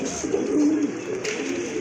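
A big pair of Sirazi Lahori pigeons coo close up, a low, steady throaty murmur that rolls on throughout with slight swells.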